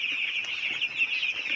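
Week-old chicks in a warm brooder, a steady stream of high, thin peeping and cheeping from many birds at once, close and continuous.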